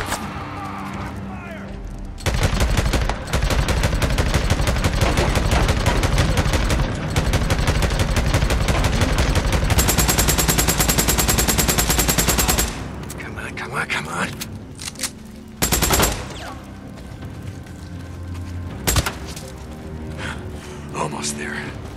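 Machine gun fire in the game Days Gone: sustained loud rapid automatic bursts for around ten seconds, then scattered shots and impacts amid game noise, with a voice heard over it.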